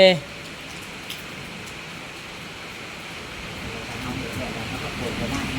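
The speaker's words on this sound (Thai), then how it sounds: "โอ้ฝนตกวันนี้" Rain falls steadily as a soft, even hiss of droplets across the whole stretch, rising slightly near the end, after a brief voice at the very start.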